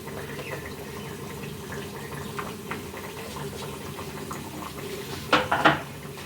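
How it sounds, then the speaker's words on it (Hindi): Semolina and milk biscuits frying in a pan over a low flame, a soft steady bubbling sizzle throughout, with a brief clatter of utensil against the pan near the end and no talking. "अब सेकेंड बैच के भी बिस्किट इसी तरीके से हम फ्राई कर लेंगे।"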